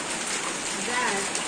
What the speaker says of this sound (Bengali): যাও যাও বৃষ্টি পড়তেছে ভেজার দরকার নাই